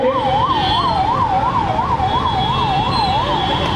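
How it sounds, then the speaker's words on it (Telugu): Loud, nearby ambulance siren cycling in a quick, even rising and falling wail through a Ganesh immersion procession, over a rumbling street background, with no one talking. "అంబులెన్స్కి దారి ఇవ్వండి."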